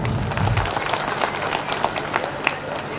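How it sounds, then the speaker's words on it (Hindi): Lively clapping from the audience at a Vishwakarma Jayanti community celebration, with a low thump at the start and scattered sharp claps over crowd murmur. "एक बार जोरदार तालियां"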